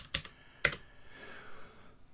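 A few quick keystrokes sound on a computer keyboard while code is typed, two sharp close clicks followed by a quiet pause.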